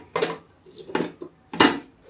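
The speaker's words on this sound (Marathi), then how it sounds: "आणि याच्यावर आता ठेवायचं आपल्याला लीड." A lid is set on a pan over a vegetable sandwich cooking on the stove, giving three close, clattering metallic knocks with short gaps between them.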